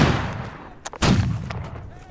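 Gunfire in the video game Holdfast: Nations at War, heard as two sharp bursts of shots close together with a brief gap between them, with a voice calling out around them.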